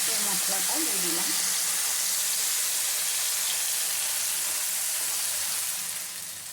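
Ground onion paste masala dropped into hot oil, a loud, dense hiss and sizzle that dominates from the start and eases slightly toward the end, with a voice speaking briefly over it at first.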